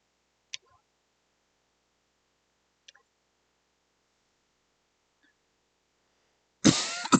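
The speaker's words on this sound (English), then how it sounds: "somehow my coughing has gotten more annoying after the cough syrup." Three or four short, sharp single coughs from one nearby person, spaced apart by quiet, then a louder burst of breathy rustle at the end.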